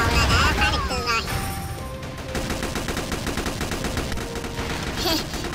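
Rapid gunfire from an M4A1 or MG4 in a shooting video game, shredding a wall within a dozen or so rounds: dense, steady bursts of shots running throughout, with someone talking over the top.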